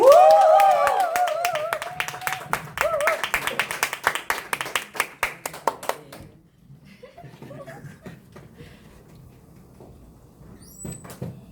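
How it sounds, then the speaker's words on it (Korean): An audience claps to welcome a speaker at a Nu Skin business group's Monday meeting. The clapping is fairly loud and dense for about six seconds, a voice rises over its start, and sparse scattered claps follow. "큰 박수로 모시겠습니다"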